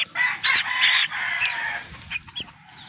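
Rooster crowing loudly and close in a poultry yard, a long strained call of about a second followed by fainter clucks and short calls from other fowl.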